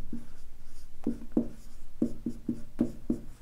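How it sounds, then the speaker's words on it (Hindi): Chalk or pen writes during a classroom lesson, producing a series of short scratchy strokes in an uneven rhythm, close and fairly clear over a quiet room. "लिख लेते हैं हम लोग"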